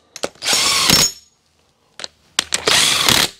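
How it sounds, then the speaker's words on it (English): An impact wrench snugs the cylinder head bolts on a stuck engine, giving short, loud, rattling bursts with silent gaps between them, close by. "I'm just going to snug it with the impact"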